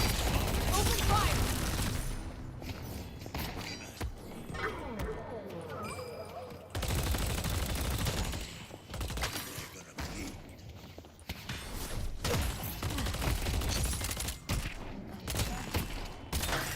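Rapid gunfire from the video game Deadlock crackles in dense bursts nearly throughout, loud and close, with brief lulls around the middle before the shooting swells again; a voice talks over parts of it.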